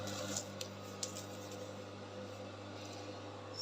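A sewing machine stitches lining to fabric for a deep illusion yoke on a bustier, its motor giving a steady, even hum with a few faint ticks near the start, alone and without talk.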